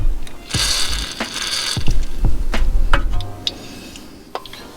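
Ratcheting clicks from a 21 wrench turning a bolt while fitting H&R lowering springs on a BMW, in short bursts with metallic clanks between them, close by.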